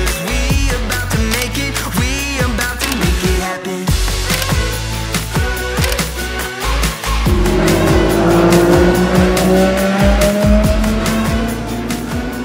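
Go-karts race around a kart track at a racing circuit, their high-pitched engines whining loudly and continuously, rising and falling as karts pass and overlap.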